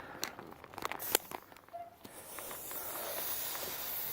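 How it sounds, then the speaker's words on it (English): Compressed air hisses out of lawn sprinklers during a winter blowout, a broad steady rush that builds after a few scattered crackles and clicks. "you can hear the air coming out of the sprinklers"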